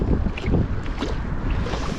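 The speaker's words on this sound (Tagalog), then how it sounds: "Malakas ang hangin." Strong wind roars across the microphone aboard a small fishing boat at sea, a steady, loud buffeting rush with gusty surges throughout and no voices.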